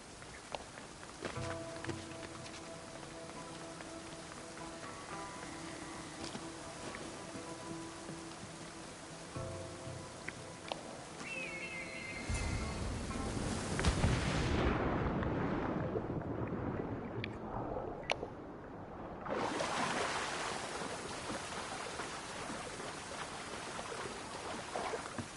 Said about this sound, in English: This is the waterfall.